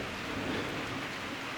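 Steady rain pours onto an off-grid wilderness cabin, a dense, continuous hiss of drops on surfaces close by, with a faint low rumble underneath and no voices.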